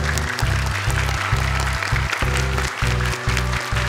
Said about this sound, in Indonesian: Boleh sekali lagi tepuk tangan untuk mereka.